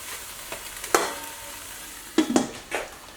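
Ground beef and vegetables sizzle softly in a pan while a spatula stirs through them, giving a few sharp scraping strokes near the start, then a cluster of scrapes and clacks later, over a continuous low fry.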